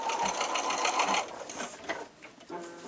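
Sewing machine stitching fabric along piping cord for a pillow, running in a quick steady whir for over a second, then slowing to short, quieter bursts of stitching.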